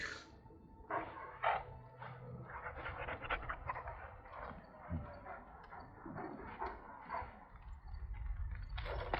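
A dog in the Dragon Age: Origins video game pants in quick, irregular bursts, close and fairly quiet, with soft shuffling and clicks around it.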